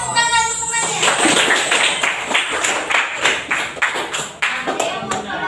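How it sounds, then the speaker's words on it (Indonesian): Children clapping in a classroom during a playful lesson, a fast run of sharp claps that builds into steady applause for several seconds, with chatter and a teacher's voice mixed in. "Beri tepuk tangan semuanya."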